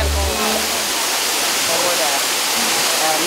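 Waterfall in Laos pouring into a turquoise pool over a limestone streambed, a steady broadband rush of falling water that holds loud and even throughout, with a brief low tone near the start.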